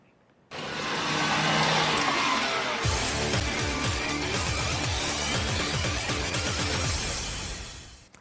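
Race cars drift across frozen lake ice in Siberia at Russia's annual Ice Drift Madness race, with a sudden loud burst of engine roar and rushing noise that holds steady, then deepens into throbbing engine tones.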